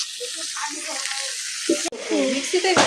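Potatoes frying in oil for a picnic khichuri, a bright steady sizzle close by, with a spatula stirring and a short break near the end, while people talk over it.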